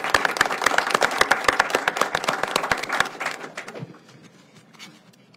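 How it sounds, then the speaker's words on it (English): Audience applause in Nashville after a mayor's announcement on LGBT-owned businesses, a loud burst of many hands clapping that thins and fades away over the last couple of seconds. "so again, I think that deserves a round of applause"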